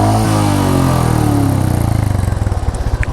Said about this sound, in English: I really like the sound of this motorcycle, the exhaust note of this motorcycle